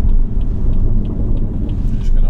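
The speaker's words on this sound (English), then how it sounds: "Oncoming car again." An oncoming car passes on the road, heard from inside a moving car as a steady, loud low rumble of road and engine noise with faint higher swishes.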